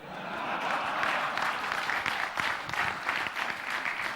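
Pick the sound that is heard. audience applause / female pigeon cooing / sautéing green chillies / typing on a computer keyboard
audience applause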